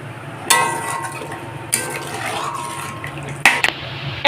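Water pours into a pan of fried spice masala for a silver carp fish curry, with a few sharp metallic knocks and splashes over a low background hiss.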